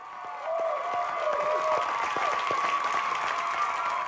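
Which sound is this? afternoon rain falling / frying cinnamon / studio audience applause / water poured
studio audience applause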